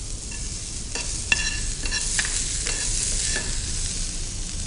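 Garlic tossed into onions frying in a pan for an idli fry gives a loud, steady sizzling hiss, broken by a few sharp stirring clicks and scrapes, with no voices.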